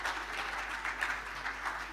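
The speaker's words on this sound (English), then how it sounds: "let's hear a round of applause for the" Audience applause for the 2024 legislative internship cohort after their mock legislative assembly; a fairly quiet, distant wash of clapping that swells and eases slightly over its short length.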